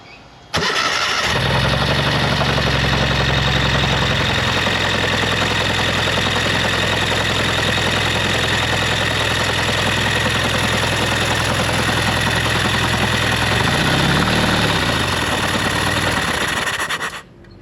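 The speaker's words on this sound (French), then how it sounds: "Est-ce que le moteur a tourné assez longtemps?" A motor runs steadily during rocker-arm disassembly work in Borneo, Malaysia, starting up after a brief quiet moment, then holding a constant low idle hum with a rough, knocking texture for about fifteen seconds before cutting off abruptly.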